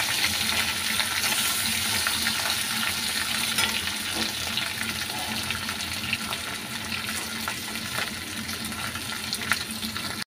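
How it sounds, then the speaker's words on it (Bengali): Boiled potatoes fry in hot oil with asafoetida and cumin, making a constant, close sizzle with scattered crackles and light stirring noises for the whole stretch, and no voices. "তো আলুটা পুরো তেলের মধ্যে দিয়ে দিয়েছি, এবার হালকা হাতে উল্টে দেবো, কারণ যেহেতু সেদ্ধ আলুটা।"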